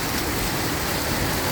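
Dense hail and heavy rain in Abha, Saudi Arabia, make a loud, unbroken hiss and patter close by, steady throughout with no talking.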